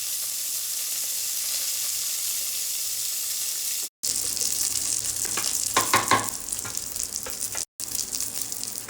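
Dried red chillies, curry leaves and asafoetida, added with fenugreek seeds, frying in hot oil, giving a loud steady close sizzle with brief bursts of crackling and stirring, and two short gaps.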